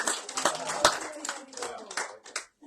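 An audience claps at a morning program in Murwillumbah, Australia: a brief run of scattered, uneven claps up close, with voices mixed in and a short lull near the end.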